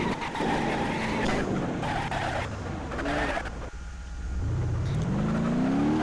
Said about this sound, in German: Der Wagen lässt sich echt gut fahren.